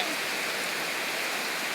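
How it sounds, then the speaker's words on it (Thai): Rain falls steadily in Lamphun, Thailand, making a dense, even hiss of drops with no breaks. "โหฝนตกนะดูเลย"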